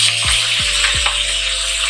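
Spinach hits a hot wok (kadhai) with a loud, steady hiss of sizzling oil, punctuated by a few quick sweeping tones, close and continuous.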